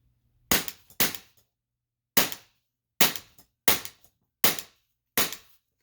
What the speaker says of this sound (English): So let's test it out with the Glock 17.